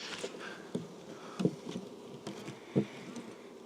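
Honey bees buzz around a beehive close by, a continuous droning hum with a few louder passes and soft taps from bees near the hive.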